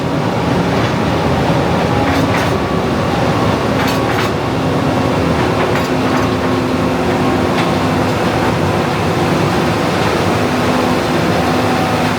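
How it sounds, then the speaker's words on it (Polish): A mine train arrives underground in a coal mine 600 metres deep, the Bolesław Śmiały colliery in Łaziska. It makes a loud, continuous rumble with rhythmic wheel clatter and metallic squeals, and no voices are heard. "Jedzie po nas pociąg."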